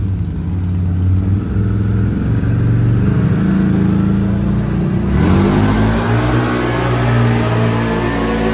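A CFMOTO engine revs hard on a dyno, climbing steadily in pitch as it accelerates, loud and close with a constant mechanical roar.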